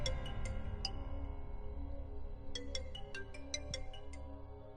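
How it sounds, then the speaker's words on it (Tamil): Phone ringtone on an outgoing call, short bright electronic beeps in two bursts over a low humming drone, faint and distant-sounding. "கரணுக்கு கால் பண்ணிடுறேன்"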